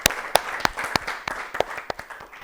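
An audience at a children's television quiz show claps for a contestant in uneven, sharp bursts that thin out and fade over a couple of seconds.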